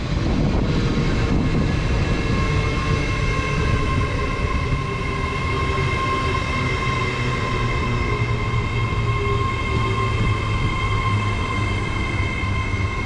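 A Class 803 electric train pulls into Stevenage station, a steady loud rumble and hum of wheels and traction with a sustained whine, continuous throughout without speech.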